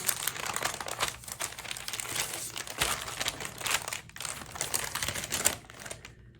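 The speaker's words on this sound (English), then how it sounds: "It was wrapped up very nicely in this beautiful brown paper." Brown paper wrapping from a posted package from Australia crinkles and rustles continuously up close, in crisp, uneven bursts of scrunching with no voices.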